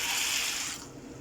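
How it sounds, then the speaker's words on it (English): Boiling water surges in a pot as pasta goes in, a brief broad hiss and rush that fades quickly to a quieter bubbling. "the water here is boiling, so I will add my"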